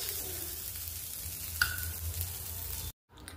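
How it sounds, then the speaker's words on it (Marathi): Onion fries in a pan with a steady, soft sizzle, and a single utensil clink marks a stir. The sound cuts to silence just before the end. No one speaks. "तर कांदा सुद्धा एकदम व्यवस्थित भाजून झालाय"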